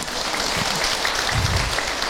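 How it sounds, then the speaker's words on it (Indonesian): Audience applause at an Indonesian religious talk show, a steady dense clapping from a studio crowd that fills the whole short stretch at moderate loudness. "lagi tepuk tangan buat Abi, Ibu"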